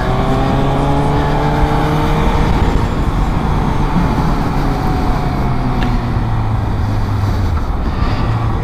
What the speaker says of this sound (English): This bike, it loves to scream, this motorbike.